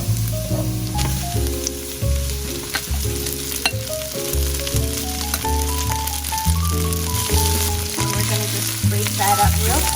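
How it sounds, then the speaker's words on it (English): Egg fried rice sizzles and fries steadily in a pan over high heat, a continuous frying hiss running the whole time beneath prominent background music. "now we're gonna set the heat to high, and we're gonna dump in our rice"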